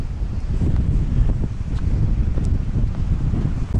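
Cold wind gusts across a coastal fort at Torteville on the west of Guernsey, a low, rumbling buffet against the microphone that swells and churns continuously without speech.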